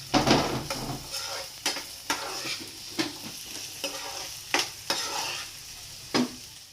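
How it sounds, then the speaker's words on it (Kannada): Onions are stirred and fried in a pan, with a constant sizzle broken by repeated sharp scrapes and knocks of a spatula against the pan. "ಇದು ಆನಿಯನ್ ಇಷ್ಟು ಫ್ರೈ ಆಗಿದ್ರೆ ಸಾಕು."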